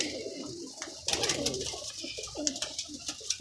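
Teddy pigeons kept by a pigeon fancier coo repeatedly at close range, soft rolling calls over a busy, noisy loft background with some faint voices.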